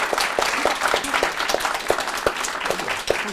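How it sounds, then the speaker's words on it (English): Lunchtime event audience giving a speaker a round of applause, many hands clapping in a lively, moderately close burst with distinct sharp claps standing out. "So, give Catherine Cooke a very good round of applause."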